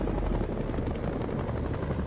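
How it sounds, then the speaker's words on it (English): Black Hawk helicopters flying by in the video game House of Ashes: a steady, dense rotor roar with rapid low thudding blade chop, loud and continuous throughout, with no voices. "Black Hawk helicopters fly by."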